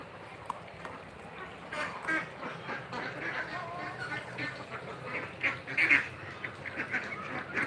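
A flock of village ducks quacks continuously in a busy, overlapping chorus, fairly close, growing a little louder toward the end.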